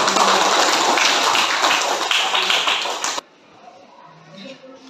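A classroom of students claps for a student group, with dense, loud applause that lasts about three seconds and cuts off sharply, leaving quiet room noise.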